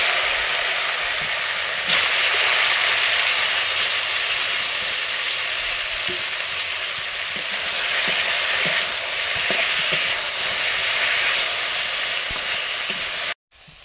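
Panch phoron spices fry in hot mustard oil with crushed rice, a loud, close, steady sizzle broken by a few small pops and crackles before cutting off abruptly at the end.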